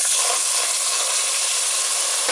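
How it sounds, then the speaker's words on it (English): Milk poured into a hot pan to make a scalloped potatoes sauce gives a steady, loud hiss and sizzle that runs unbroken through the whole stretch with no talking. "So we're going to put the milk in there now."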